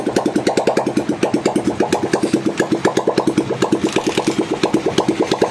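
A rebuilt Bajaj Pulsar motorcycle engine runs steadily close by, its regular rapid thumping beat loud and even throughout, with no voices.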